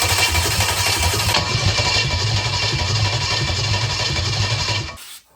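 Chevy 283 small block engine spun over by its starter for about five seconds, a loud, steady, rhythmic cranking drone that stops suddenly at the end.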